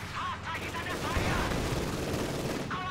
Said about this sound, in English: AT gun now opening up on the German half-track